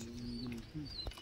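Pigeons in a loft, including a curved-beak Abluk Madras pigeon, giving soft low coos, with faint chirps and distant voices in the background.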